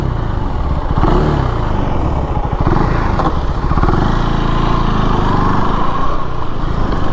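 A KTM Duke 390 motorcycle set to track mode revs up under the throttle, its single-cylinder engine rising and falling in pitch up close, loud and continuous without talk.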